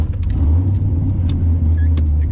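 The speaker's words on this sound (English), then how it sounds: "That's when that squeakiness, that's when that freaking slave cylinder gets hot from the exhaust." A 1988 Chevrolet Camaro IROC-Z, clutch slave cylinder hot from the exhaust, gives brief high squeaks over a steady, loud low engine rumble close by.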